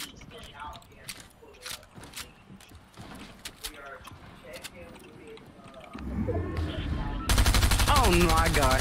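Hip-fired gunfire in Fortnite, scattered shots under excited talk that give way to a loud sustained burst of rapid automatic fire at the end.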